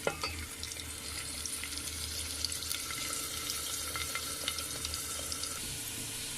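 Onions fry in a pan toward golden brown, giving a steady, moderately faint sizzle with light crackles and occasional stirring scrapes, no voices heard.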